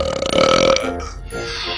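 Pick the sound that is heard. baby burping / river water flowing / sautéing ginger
baby burping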